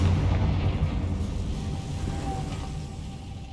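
A Confringo explosive spell from Hogwarts Legacy bursts with a loud, heavy low rumble that swells at once and fades slowly over a few seconds, with no voices.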